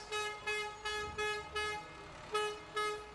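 Parade trucks sound their horns in a string of short, loud toots and honks, roughly evenly spaced, over a steady background of street noise.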